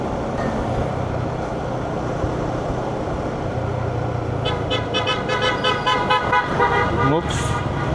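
A loud car horn blares in repeated bursts over steady road and traffic noise on a street in Bacolor, Pampanga, with a voice briefly audible underneath.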